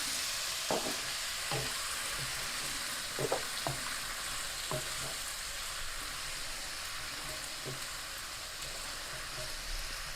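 Butter beans tipped into a simmering turkey and leek soup and stirred, a soft bubbling sizzle with a handful of light knocks and scrapes of the spoon early on, then quieter steady simmering alone.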